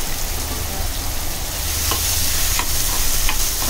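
Two large finely chopped onions fry in a pan with a hot green chili, a steady loud sizzle close by, with occasional scraping strokes as they are stirred.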